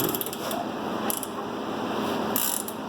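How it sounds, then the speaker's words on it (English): Someone turns the rotating assembly of a Honda B-series engine by hand on a sleeved block. Close, repeated ratcheting clicks and mechanical ticks come in short bursts over a steady background. "It's supposed to spin freely, you're supposed to just barely just turn it."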